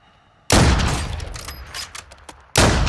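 Gunfire in a video game erupts in a loud, dense burst of rapid shots that tails off over about two seconds, then another heavy volley cuts in abruptly, close and without speech.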